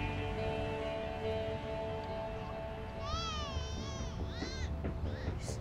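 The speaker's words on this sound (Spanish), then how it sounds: "se oye como un gato maullando" A cat meows several times in rising and falling wavering cries, faint and somewhat distant under a steady indoor hum, in a dramatized Mexican TV scene.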